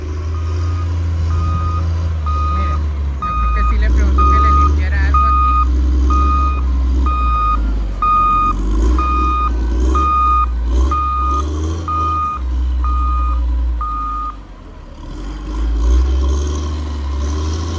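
A large snow-clearing truck reverses after a blizzard, its backup alarm beeping in a steady, evenly spaced series for about fourteen seconds over a loud low engine rumble, with scraping nearby.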